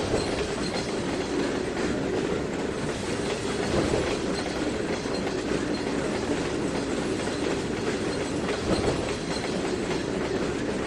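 A train in the video game Trainz 2019 rolls steadily along the tracks, wheels clattering in a continuous rumble with occasional squeals, loud and close throughout.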